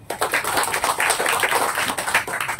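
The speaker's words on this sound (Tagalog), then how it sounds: "Palakpakan ito Ginoo." Church congregation applauding together, a dense continuous patter of many clapping hands lasting a couple of seconds, close and fairly loud, with no voices over it.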